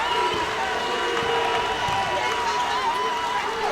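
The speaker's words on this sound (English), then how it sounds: "The crowd noise is absolutely incredible." A crowd at a high school basketball semifinal roars steadily, a loud sustained wall of cheering with a commentator talking over it.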